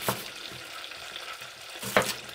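Chicken pieces lightly brown in a pan for creamy paprika chicken, giving a soft, steady sizzle with a couple of brief louder stirring bumps and no voices.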